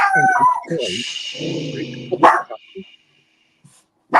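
A small miniature dog barks and yips close by during a live talk about pond keeping, several sharp barks mixed in with someone speaking, then one more loud bark at the very end.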